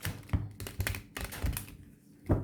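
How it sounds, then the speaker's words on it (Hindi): Tarot cards being shuffled by hand, a run of quick papery riffles, taps and soft thuds in close, uneven bursts with brief pauses between them. "अच्छे से मैं शफल कर लेती हूँ फिर से एक बार"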